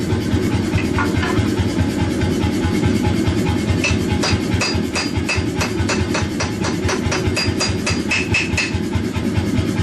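An Anyang power hammer forges a knife blade, pounding in a fast, steady rhythm over a constant mechanical drone, with a run of sharper metallic strikes in the middle section.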